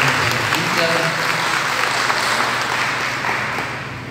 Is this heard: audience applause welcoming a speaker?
yes